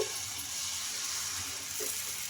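Leftover rice dosa sizzles steadily on a hot pan, a continuous close frying hiss with a faint soft tap near the end.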